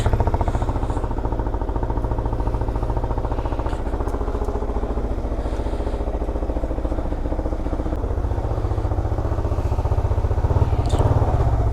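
A motorcycle engine idling close by, a steady rhythmic low putter with slight revving, continuous throughout.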